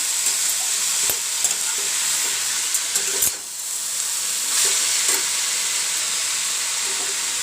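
Greens are stir-fried in a kadai with salt, producing a loud continuous sizzle and hiss close up, broken by a few sharp scrapes and clinks of the spatula.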